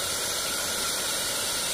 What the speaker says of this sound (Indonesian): Kita panasi pakai hair dryer.